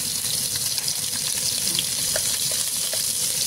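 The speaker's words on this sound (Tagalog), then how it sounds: "Idagdag natin yung ating sibuyas at bawang. Ayan, dyan na rin natin siya igisa." Onion and garlic sauté alongside browned pork belly in a pan, a dense continuous sizzle with faint stirring scrapes and small pops, no talk over it.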